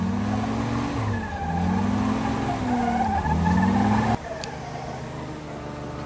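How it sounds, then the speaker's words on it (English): Vintage 4x4 tires spin against rocks on a winter off-road trail, the engine revving in rising and falling surges with grinding tire squeal for about four seconds before cutting to a quieter steady drone. "He must have left like half an inch of rubber on the rocks there."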